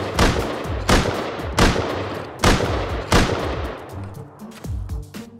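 Heavy gunfire in a video game, a series of loud booming shots roughly every half-second to second, close and forceful with echoing tails, fading slightly toward the end, no voices.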